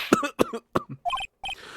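Several short coughs from a character in the video game Phoenix Wright: Trials and Tribulations, a quick run of close, dry bursts followed by brief synthesized game tones, with no talking.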